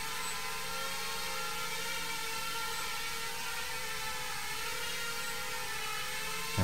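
A quadcopter drone hovering steadily in altitude-hold mode gives off a constant, close, loud high-pitched whir with a slight buzz that stays even throughout, with no talking.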